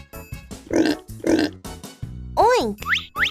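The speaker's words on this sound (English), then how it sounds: "A pig makes a oink sound." A pig oinks in two short, loud nasal grunts, followed by a few rising squeals, with no talk over them.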